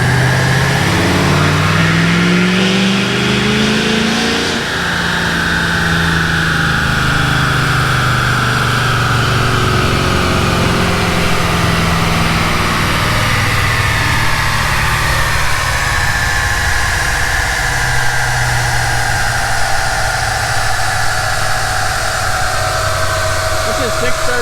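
A Ford Powerstroke diesel truck engine with stock intake and EGR still fitted revs hard on a dyno, a loud sustained mechanical roar with rising and falling pitch that stays steady and close throughout.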